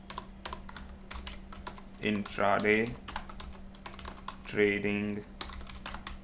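Typing on a computer keyboard while making entries in Tally accounting software, a string of quick, close key clicks running throughout, with two short spoken words breaking in.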